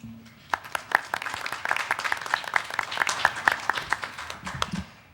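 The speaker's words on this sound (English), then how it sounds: "another round of applause for Daniel" Audience clapping at a trustee candidate forum as the moderator is welcomed, a steady patter of many hands with some louder individual claps standing out, sustained for several seconds and then tapering.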